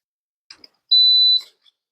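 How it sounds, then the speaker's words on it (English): A single high-pitched electronic beep from a device being switched on, about half a second long, clear and close in otherwise near silence, with faint clicks around it. "I know you heard that beeping there"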